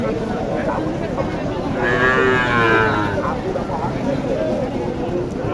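Cattle, including Sahiwal cows, at a busy rural cattle market in Naogaon. One long, fairly close moo rises midway over constant crowd chatter and market bustle.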